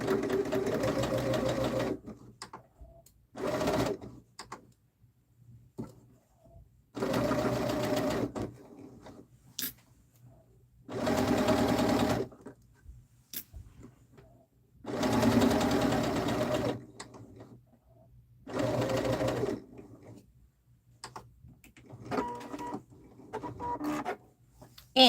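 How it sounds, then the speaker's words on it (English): Sewing machine stitching a quarter-inch seam on light, delicate fabric, running in several separate bursts of steady whirring with quiet pauses between them. "Now we sew with a 1/4 inch."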